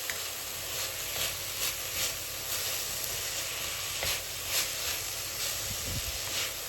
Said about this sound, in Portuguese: Isso aqui eu vou refogar mais uns 5 minutos